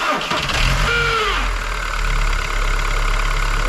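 A Skoda Fabia engine cranks briefly and catches, revving up with a quick sweeping whine, then settles into a steady, loud idle close by.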